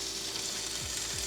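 Sweet potato pieces fry in a pan with a steady, close hiss and crackle of hot oil, continuous and alone with no talk.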